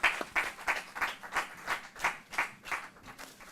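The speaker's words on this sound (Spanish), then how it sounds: "aplauso para romper ya el hielo" Audience applause greeting guests at a talk on handball and emotional intelligence: a run of brisk, rhythmic clapping swells in evenly spaced bursts for a few seconds, moderately close and without speech.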